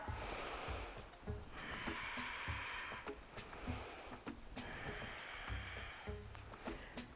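Deep, audible breaths during a yoga exercise with weights, a breathy exhale and inhale repeating in a slow rhythm, close to the listener and fairly faint.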